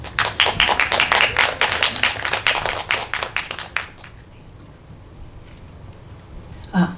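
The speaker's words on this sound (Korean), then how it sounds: "발표 박수로 맞이해서 듣고 토론으로 이어가 보도록 하겠습니다." A small audience at a Korean forum on gender violence in media claps briskly for about four seconds, close and sharp, then the room falls quiet apart from a faint noise near the end.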